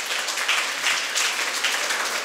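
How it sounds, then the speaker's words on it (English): Applause from an audience of parents and children at a school special debate event, a steady wash of clapping of moderate loudness with slight swells, continuous throughout with no voices. "Give a very good clap for the parents."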